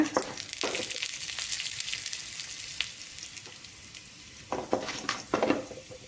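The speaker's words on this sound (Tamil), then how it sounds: "லைட்டாக அந்த மணம் வர அளவுக்கு மட்டும் வணக்கிக்கோங்க" Chana dal and urad dal sauté in hot oil with a steady low sizzle throughout, broken by occasional light scrapes and clinks of a stirring utensil against the pan.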